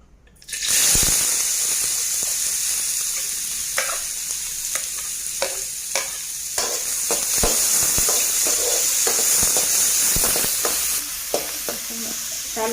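Finely chopped onions sizzle steadily in hot oil in a pan while cooking Karnataka-style dondekayi palya, with frequent sharp clicks and scrapes of stirring throughout.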